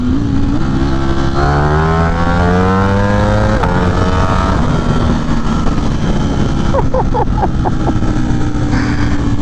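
A Ducati Streetfighter V4 motorcycle engine revving hard under throttle, loud and close, its pitch climbing steeply through rising sweeps, then a sudden shift and a series of sharp rapid pops near the end.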